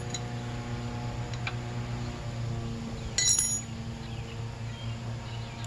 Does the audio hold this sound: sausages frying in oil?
no